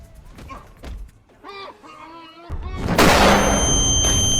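A gas tank explodes in a Batman video game, a sudden heavy blast that follows brief game voices and then leaves a loud, sustained roaring rumble.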